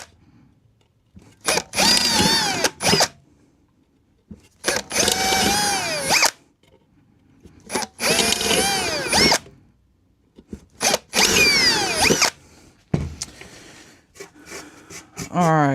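A power drill bores 1/8-inch holes in an amplifier chassis, its whining motor rising and falling through four separate drilling bursts with short quiet pauses between them, plus a lighter final stretch of grinding.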